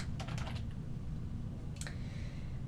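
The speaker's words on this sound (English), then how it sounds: "I can start typing in my name." Names being typed on a computer keyboard: a quick burst of several key clicks, then a pause and a couple more taps, fairly faint over background hum.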